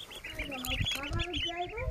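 Small ducklings peep in quick, high, repeated calls close by, while a person speaks over them.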